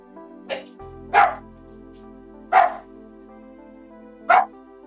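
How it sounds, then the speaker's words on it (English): A dog barks four times, with a small yip followed by three louder, sharp barks spaced a second or so apart, close to the microphone over a steady low electronic hum. "Hey, buddy, stop barking, please."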